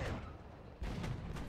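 A Tiger II tank's 88 mm cannon fires in War Thunder, one deep booming shot near the start and a second heavier blast about halfway through, both close and punchy over a low engine rumble.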